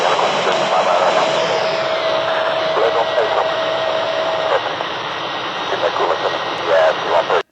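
An F-14 Tomcat jet in a flight video game roars with a steady, loud engine drone and a faint whine, while someone talks over it almost throughout.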